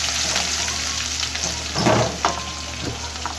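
Four or five green chillies fry in hot oil with ginger-garlic paste, giving a close, steady sizzle with a few louder bursts as the pan is stirred.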